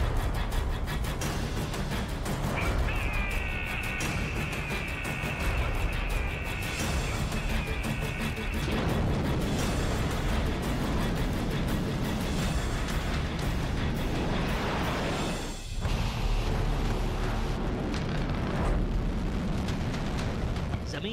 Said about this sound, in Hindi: जमीन पर आग का गुबार छोड़कर आसमान की गहराई में गुम हुई इस मिसाइल